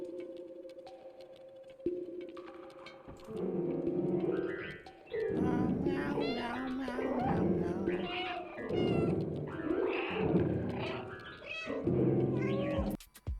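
Cat meows from the video game Stray, a stray cat exploring as a puzzle platformer, repeated meows and cries rising over a steady low musical drone, fairly loud and continuous.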